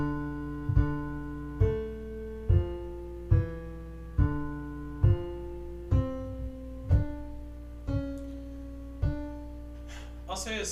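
A corrected counterpoint exercise on a piano-like instrument, single lines moving note by note in a steady, even rhythm of about a dozen struck tones; a brief voice cuts in at the very end.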